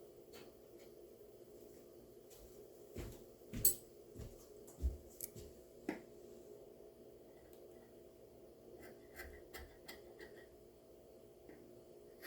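Scissors trim the fringe of a crocheted scarf with several quiet, close snips clustered together, followed by a few fainter cuts in a hushed room.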